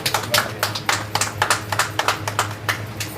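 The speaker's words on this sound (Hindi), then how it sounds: "इसके लिए मैं चाहूँगा जोरदार ताली बजाइए" A scattered round of hand claps breaks out at a coaching-centre ceremony honouring a Class 12 student, with quick, uneven claps coming in a steady patter for a few seconds against a faint background hum.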